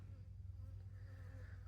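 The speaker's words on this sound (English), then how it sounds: "the bees are drinking." Bees buzz steadily among carnivorous Sarracenia pitcher plants outdoors in late summer, a low continuous drone close by with no talking.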